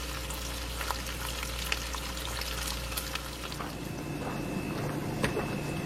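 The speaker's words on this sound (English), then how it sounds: "Bacon is super sexy to watch cook" Bacon sizzles and crackles steadily in a pan, a dense close hiss with scattered pops that stays even throughout, with no talking over it.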